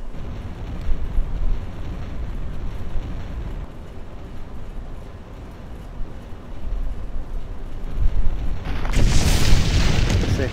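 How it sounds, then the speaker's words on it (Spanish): Deep rumbling tremors in the video game Resident Evil 3 Nemesis, a continuous low roar that swells into a louder, brighter crash near the end, with no talking. "Se escucha temblores"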